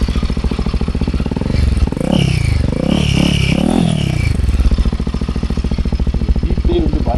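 A Royal Enfield Himalayan 450 fitted with an MNTB prototype rally exhaust idles with a loud, close, rapid thump, then revs hard in a rising and falling burst before settling back to idle.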